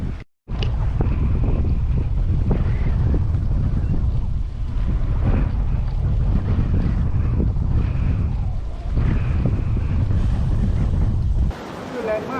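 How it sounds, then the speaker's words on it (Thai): Strong wind buffets a microphone outdoors near the coast for a sustained, loud, roaring rumble that drops out briefly at the start and eases near the end. "วันนี้ลมค่อนข้างจะแรงฮะ"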